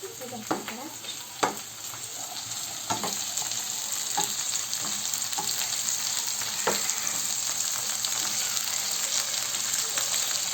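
Onions and peppers fry in a pan while being stirred, a close, steady sizzle with a few scattered spatula knocks and scrapes, loudest early on, then an even crackling hiss.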